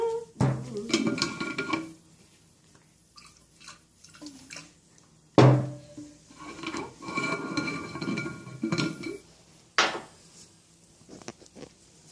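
A bottle holding salt, oil and water shaken by hand in a kitchen experiment, with two bursts of sloshing, rattling liquid separated by quieter clinks and drips.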